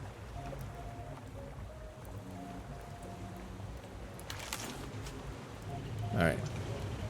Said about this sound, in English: I should go make sure that the engines are definitely still going though